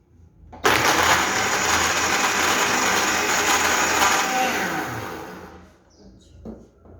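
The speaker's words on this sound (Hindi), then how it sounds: "बर्फ़ हमारी अच्छी तरह क्रश हो गई।" A kitchen blender crushes ice cubes for a chocolate milkshake, starting abruptly and roaring loudly for about five seconds with rattling grinding, then winding down to a stop followed by a faint clunk.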